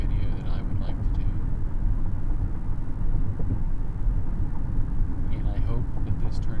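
A car driving late at night, with a steady low road and engine rumble filling the interior throughout, alongside faint soft spoken or whispered sounds.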